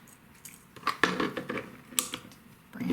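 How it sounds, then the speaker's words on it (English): Whole black peppercorns tipped into a jar of pickle brine, heard up close as a few quick, sharp clatters and rattles of small hard grains against glass and metal, with no talking. "I'm gonna put some whole black peppercorns"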